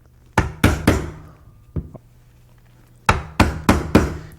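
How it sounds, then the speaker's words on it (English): An old chisel struck with a hammer to cut floor underlayment around kitchen cabinets, a series of sharp, close, loud wooden-sounding whacks in two bursts separated by a quieter pause, with no talking. "you're going to have to chisel around the cabinets"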